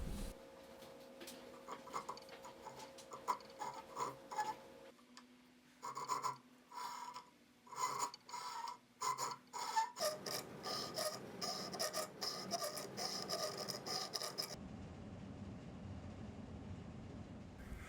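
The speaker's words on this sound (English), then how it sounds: "Now using a checkering file, I will add some jimping to the spine." A checkering file cuts jimping into the spine of a handmade fat head utility knife, heard as bursts of rhythmic rasping strokes, some in quick regular runs, close and fairly quiet, alone.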